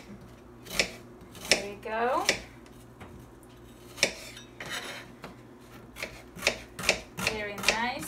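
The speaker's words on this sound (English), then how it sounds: "So what you're gonna do is cut onion any way you want" A knife cutting an onion on a board in a kitchen making spaghetti squash Florentine: a series of sharp chopping clicks and scraping blade sounds at an uneven pace, close by, with a brief spoken remark.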